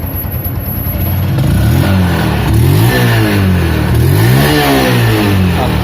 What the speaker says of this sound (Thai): ก็เลยเสียงเครื่องก็จะเงียบกว่า นะครับ มีแต่เสียงหัวฉีดเท่านั้นที่ทำงานอยู่ดังจิ๊ด จิ๊ด จะได้ยินเสียง